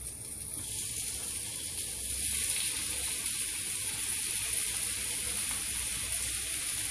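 Chicken strips sizzle loudly in a hot pan, a steady bright hiss that grows slightly stronger after the first couple of seconds.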